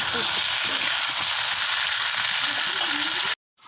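Potatoes seasoned with salt and turmeric fry in hot oil with a steady, close sizzle and occasional scraping stir, then cut off abruptly near the end.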